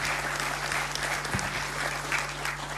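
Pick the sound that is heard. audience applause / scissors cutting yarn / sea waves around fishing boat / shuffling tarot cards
audience applause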